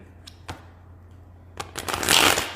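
A couple of soft taps on tarot cards, then a bursting riffle shuffle that swells into a loud, fluttery cascade of cards near the end.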